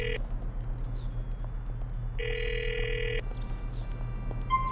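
A telephone rings in Grand Theft Auto IV, two steady electronic ring bursts separated by a pause, sitting over a constant low game hum with no talk.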